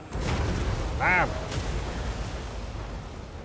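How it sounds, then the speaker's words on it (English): A small explosion from a spell cast in Total War: Warhammer 2, a sharp boom bursting out of a continuous battlefield din, with a brief whooshing tonal sweep after it and noise rumbling on underneath. "there's actually a little explosion when he cast that in their midst"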